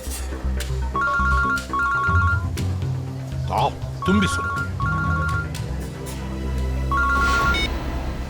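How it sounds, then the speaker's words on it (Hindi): A telephone rings in short repeated double bursts through a tense scene from the Indian crime drama CID, over a steady background score, with people talking between and over the rings. "दया फोन कर रहा है। दया फोन कर रहा है?"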